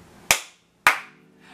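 Two sharp, separate hand claps ring out about half a second apart, each loud and close with a quick decaying tail, and no voices in between.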